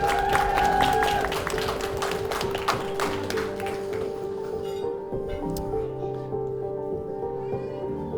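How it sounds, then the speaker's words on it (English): Wedding guests at Buxted Park Hotel give a round of applause that rings out for a few seconds and then fades, leaving sustained tones of background music. "nice round of applause"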